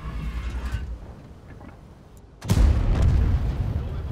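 Tank cannon fire in the World of Tanks video game, playing the Emil II tank with a magazine autoloader: a heavy boom bursts in at about the midpoint and rumbles on loudly, with quieter battle noise before it.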